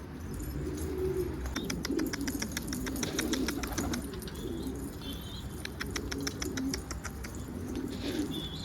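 A racing pigeon coos in a garden in repeated soft, low, throaty phrases, with other birds chirping faintly nearby and a brief flutter of wings.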